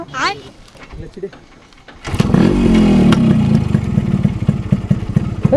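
A Yamaha RX 100 motorcycle, a two-stroke bike restored during college days, starts up after a voice and settles into a loud, close, buzzy idle with crackling pulses.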